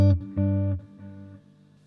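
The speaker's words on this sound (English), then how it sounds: "So on a low feedback setting it sounds something like this." An electric guitar played through a delay pedal on a low feedback setting sounds a plucked note, then a loud repeat and a couple of quieter echoes that fade within about two seconds.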